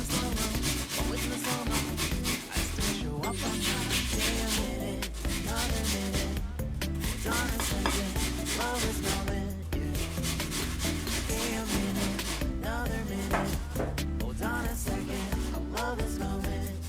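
Apple and onion are rubbed hard across a coarse grater for a puree, giving a continuous rhythmic rasping scrape with quick repeated strokes. The sound is close and fairly loud, with no talking over it.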